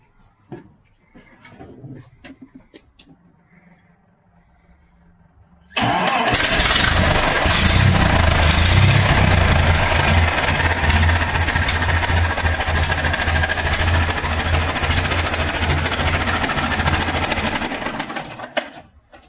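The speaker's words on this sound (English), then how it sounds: "I'll fire it up. We'll see what it sounds like" A 1908 BSA car engine cranks briefly on its electric starter, then bursts into a loud, steady running roar that holds for about twelve seconds before cutting off.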